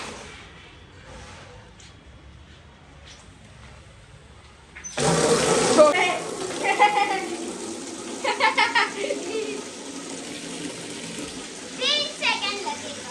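Water gushes loudly from a tap into a tub, a steady broadband rush, with a voice and other talk over it.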